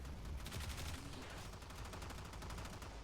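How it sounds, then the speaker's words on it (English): Rapid gunfire from the Warframe video game, controlled bursts of shots in a dense, continuous loud volley with no pauses. "I was just doing controlled firing there just to show how it goes"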